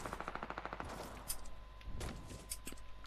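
Automatic gunfire from a fight in the video game Fortnite, a quick rhythmic burst of shots followed by a few louder single impacts, moderately close within the game's ambient sound.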